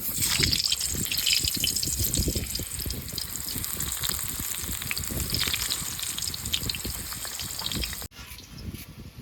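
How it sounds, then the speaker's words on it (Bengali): Potatoes fry in hot oil with a loud, dense crackling sizzle that runs unbroken for most of the stretch, then drops abruptly and continues more quietly near the end. "এদিকে আমার তেল গরম হয়ে গেছে আমি আলু কটা ভেজে নিচ্ছি"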